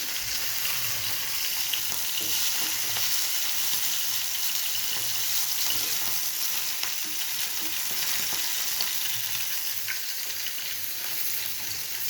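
Rohu fish pieces sizzle steadily in a pan of curry, a constant bright frying hiss with faint stirring scrapes and small pops throughout, no voices.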